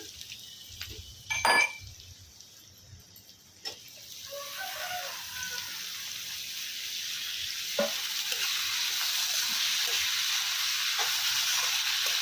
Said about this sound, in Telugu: ఇప్పుడు టమాటా వేస్తున్నాను